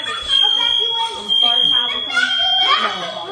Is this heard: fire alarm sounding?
yes